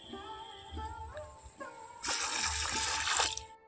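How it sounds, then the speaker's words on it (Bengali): Dirty soaking water from grated raw potato is poured out, a short rushing splash after a few quieter knocks and drips. "আর এই জলটা দেখো কতটা কালো বেরিয়েছে, দেখতেই পাচ্ছ। তো এই জলটা এখন ফেলে দেব।"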